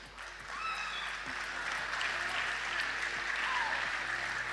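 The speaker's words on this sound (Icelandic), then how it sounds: "við skulum gefa þeim gott klapp" Applause from an audience at a sports awards ceremony in Akranes, Iceland, a steady broad patter of clapping that swells after a quiet start and holds evenly, with faint whistle-like tones in the background.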